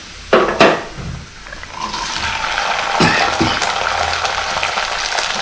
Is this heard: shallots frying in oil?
yes